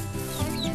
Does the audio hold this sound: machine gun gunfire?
no